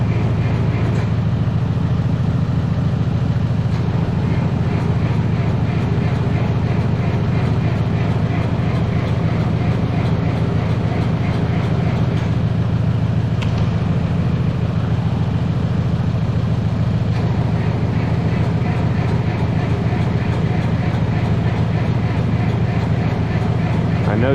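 A Minneapolis Moline tractor engine runs or cranks steadily through a cold spring start-up, with a loud, continuous low mechanical drone that holds throughout and never cuts out.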